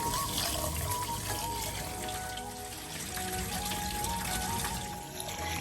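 Kodo millet rice and moong dal are swished and rinsed in water, giving a continuous close trickling and sloshing that stays fairly loud and even throughout, with no talking.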